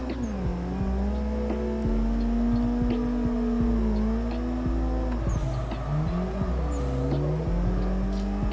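Race car engine in the Assetto Corsa sim revving and shifting pitch continuously while drifting, with brief tire squeal bursts near the end, loud and steady throughout.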